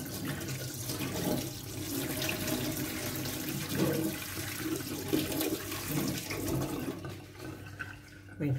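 Hot water runs steadily from a kitchen tap over a knife, warming the blade before it cuts a frozen cream and condensed-milk cake; a continuous close splashing rush that softens slightly near the end.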